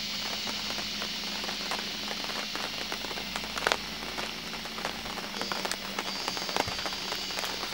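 Light rain patters steadily on leaves and ground in the Khao Yai forest, a soft, even spatter of drops with occasional louder taps and no voices.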